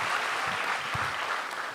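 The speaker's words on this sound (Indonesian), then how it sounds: "Ratanca sama Andri, sekali lagi tepuk tangan dong teman-teman." Audience applause for a stand-up comedy show, steady clapping throughout a short burst.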